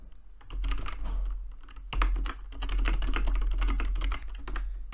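Fingers type Python code on a computer keyboard in quick, steady clatter, with close, continuous keystrokes over a low background hum.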